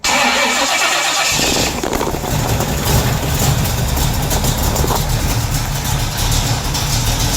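An engine with a factory Ram Air 4 camshaft cranks briefly, then catches and settles into a loud, steady, lumpy idle up close, the low rumble holding for several seconds with no talking.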